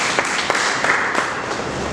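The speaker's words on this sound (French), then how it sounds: "je félicite et vous demande de l'applaudir aussi en passant" An audience at a certification ceremony for new coaches claps steadily, a dense close wash of applause lasting the whole moment, with a few sharper individual claps standing out.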